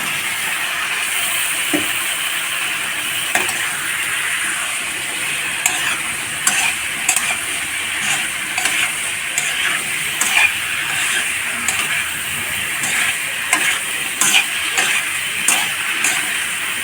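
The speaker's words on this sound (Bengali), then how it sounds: "এবার সিদ্ধ করা মূলোগুলো দিয়ে দেবো।" Boiled radish pieces stirred into oil-separated fried spice paste in a pan, a continuous hissing sizzle broken by repeated clinks and scrapes of a spatula against the pan.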